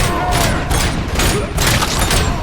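A grenade blast and gunfire in Robocop: Rogue City, with loud, dense crackling shots and thumping impacts filling the whole moment and a voice speaking beneath the combat.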